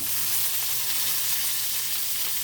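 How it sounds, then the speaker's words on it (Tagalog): Onion and tomato sauté in a pan, giving a steady loud sizzle that holds evenly throughout with no voices. "Gisahin natin sila hanggang medyo lumambot talaga din yung kamatis"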